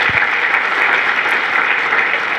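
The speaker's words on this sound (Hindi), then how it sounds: "नई लगी है तो तालियां बजा दीजिए।" An audience at a yoga talk applauds, a dense continuous burst of clapping throughout with no speech over it.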